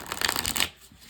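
A Hedgewitch Tarot deck with bendy, flexible card stock is shuffled: a close, rapid, fluttering riffle of cards for about half a second, followed by a quiet pause.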